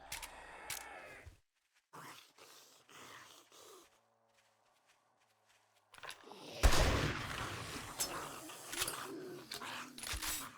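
Shotgun blasts in the survival video game 7 Days To Die, a few sharp loud reports with quieter gaps between them and a dense burst of firing near the end.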